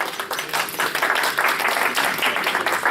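An audience at an evening class applauds together, a dense, steady burst of clapping close by that fills the whole moment without pause.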